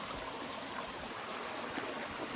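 A river in Jamaica flows steadily, a close, continuous wash of running water with trickling and gurgling detail and no voices.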